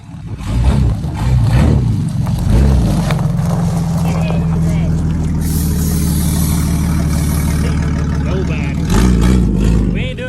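Remote control jeep pulling away: a loud, close motor whine and revving that steadies into a continuous buzzing drone, with people talking over it at the start and end.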